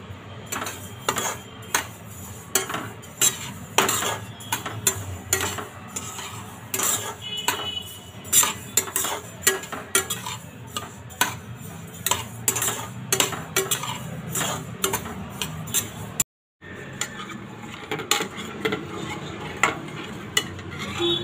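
Sesame seeds roasting in a pan for til laddu, stirred steadily with a utensil that scrapes and taps the metal in a rapid, repeated rhythm, close and fairly loud, with a faint sizzle underneath and a brief dropout near the end.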